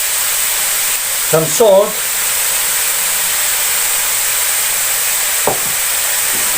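Minced lean pork and half a chopped onion roast in a pan with a steady, loud sizzling hiss throughout, broken by brief bursts of speech.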